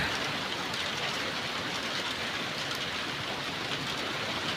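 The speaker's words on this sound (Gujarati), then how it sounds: "આજ વરસાદ આવ્યો હે" Steady rain falls, a dense continuous patter with no pauses and no voices.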